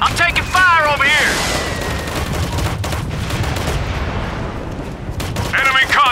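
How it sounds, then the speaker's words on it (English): Gunfire crackles in Operation Flashpoint: Red River, with rapid bursts and booms spread across a loud battle soundscape, while a voice shouts over it. "I'm taking fire over here!"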